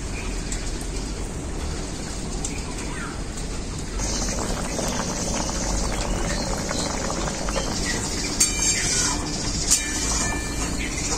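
A pot of hilsa fish and taro stolon curry broth boils steadily, giving a close, continuous bubbling hiss with no voices.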